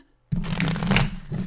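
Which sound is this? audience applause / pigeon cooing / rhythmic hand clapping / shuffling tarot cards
shuffling tarot cards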